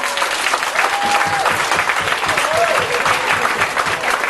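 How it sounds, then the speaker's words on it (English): Audience at a comedy stage hypnotist show giving a burst of applause for volunteers on stage, steady dense clapping throughout with a few whistles cutting through the crowd noise. "give these people a round of applause"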